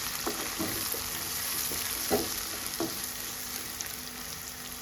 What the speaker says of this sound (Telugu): కట్ చేసి పెట్టుకుని ఆనియన్స్ వేద్దాం.